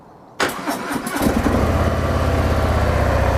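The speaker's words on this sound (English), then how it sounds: "If I turn on the engine now here" A cold Harley-Davidson Softail Sport Glide motorcycle engine cranks and fires, settling into a loud, steady, close-up rumbling idle.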